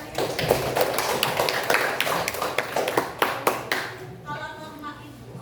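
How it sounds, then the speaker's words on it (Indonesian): Students clapping in a classroom, a brisk burst of hand claps that slows to a few distinct claps before stopping, followed by a voice beginning to talk. "tepuk tangan buat kalian"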